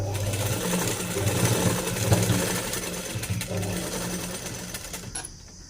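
Sewing machine stitching with a number 20 needle, a loud steady motor whir with rapid needle clatter running continuously, then stopping abruptly near the end.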